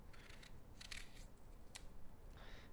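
A knife slices a cored apple into pieces for mulled wine, making a few soft, brief cutting clicks close by in a quiet kitchen.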